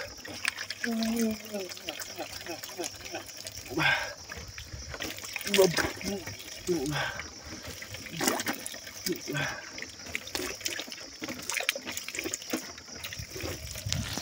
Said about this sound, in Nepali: अब म यो पानीले मुख धुन्छु